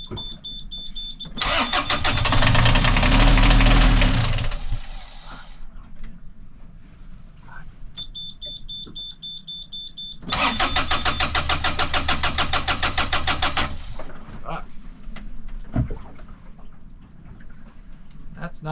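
A boat engine cranked after a glow plug repair, two long loud starter bursts that churn but fail to catch, separated by quiet gaps with faint background noise.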